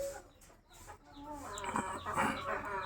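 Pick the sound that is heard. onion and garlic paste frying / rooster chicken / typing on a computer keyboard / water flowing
rooster chicken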